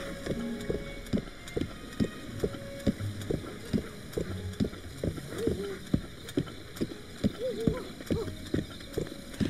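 A horse gallops at a steady rhythmic clip-clop of hoofbeats in the video game The Legend of Zelda: Breath of the Wild, moderately loud and continuous, with soft talking faintly underneath.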